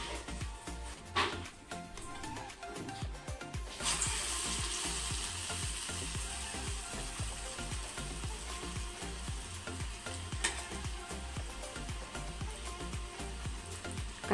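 Medu vada deep frying in hot oil, a steady dense sizzle and bubbling that runs throughout, with occasional clinks of a utensil stirring and lifting the fritters out.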